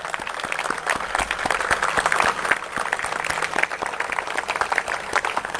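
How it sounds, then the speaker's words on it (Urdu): Convention audience breaks into sustained, dense applause, many hands clapping steadily and loudly throughout with a faint crowd murmur underneath. "آپ لوگ ایک دفعہ کھڑے ہو کے بھرپور تالیوں کے ساتھ جو ہے وہ"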